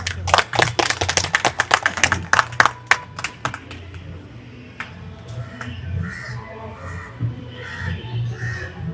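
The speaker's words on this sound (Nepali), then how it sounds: "उहाँले यस संस्थालाई पुर्याउनु भएको योगदानका लागि हामी सबैले एकचोटि जोरदारका साथ ताली बजाएर उहाँलाई सम्मान गरौँ।" Audience at the fifth annual general assembly of the Nepal Mandal Literature Culture Trust claps loudly in a burst of applause that fades after a few seconds into low room murmur and background sounds.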